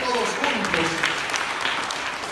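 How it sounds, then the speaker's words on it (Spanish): A church congregation applauds, a steady mid-level patter of many hands with voices mixed in. "vamos a dar un aplauso al Señor una vez más"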